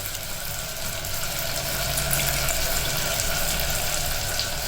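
Tamarind water being poured and strained for a brinjal and okra tamarind curry, a steady watery trickle and splash that runs on without a break at low volume, with no talk.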